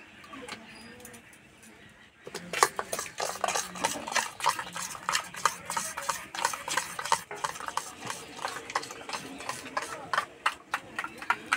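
Naan puri dough is mixed and kneaded by hand in a bowl after oil and baking soda go in, giving a steady run of soft, rhythmic slapping and squishing sounds at close range.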